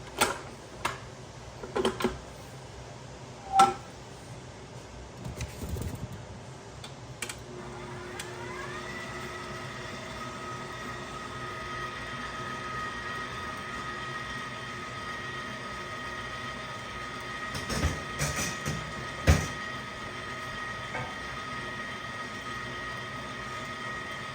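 A pasta machine working beet-coloured ravioli dough gives a steady mechanical whir with a few clicks and taps, loud and near, running alone without talk.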